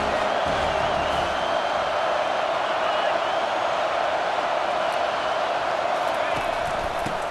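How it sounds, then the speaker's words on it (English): Dense, loud roar of a large football stadium crowd during a Wisconsin vs USC game, a steady wall of cheering and shouting that swells throughout with no single voice standing out. "this crowd is turning it up a notch"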